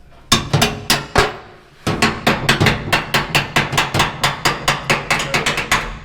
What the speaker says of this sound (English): I'm gonna hammer that.